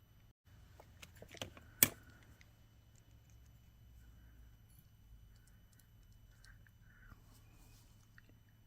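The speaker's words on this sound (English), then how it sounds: "And now we trim the extra wire." Wire cutters trim extra beading wire while making hair sticks, giving one sharp, quiet snip after a few faint handling clicks, followed by near silence.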